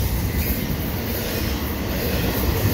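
Fast CP eastbound double-stack freight train passing close at night near Sainte-Anne-de-Bellevue station, a loud, continuous roar of wheels and rushing wagons.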